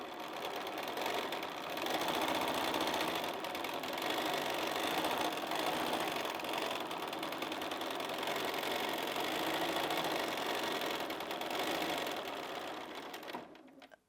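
A sewing machine quilting a cushion runs steadily and loudly with a continuous whirring drone for most of the stretch, then stops abruptly.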